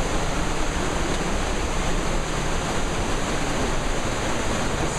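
River water rushes through Vintgar Gorge near Bled, Slovenia, a steady, loud broadband roar that stays constant throughout with no other sounds.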